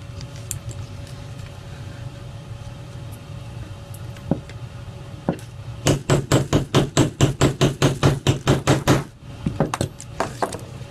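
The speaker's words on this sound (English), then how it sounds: "Three more rivets and we're done hammering for now." Hammering rivets into a leather cuff bracelet: a few scattered taps, then a rapid run of about fifteen sharp, loud, evenly spaced hammer strikes, followed by a few lighter knocks, close up with no talk.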